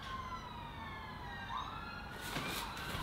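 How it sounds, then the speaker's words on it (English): Emergency vehicle sirens wail outside at a moderate distance, their rising and falling tones steady for a few seconds before a louder burst of broadband street noise joins toward the end. "It is kicking off outside with the sirens."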